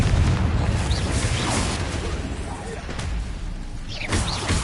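Confringo fire spell explosions in the Hogwarts Legacy video game, a dense rumbling boom with sharp bursts and popping debris, loud and sustained with a fresh blast near the end.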